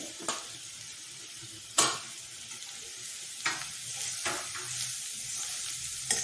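Grated carrot frying with browned onions in a pan for carrot pulao, a steady soft sizzle with occasional sharp scrapes of a spoon stirring, moderately close, no voices.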